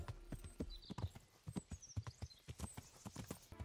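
Rhythmic clip-clop of horse hooves at a steady gallop in a video game, with a brief whinny and faint background tones.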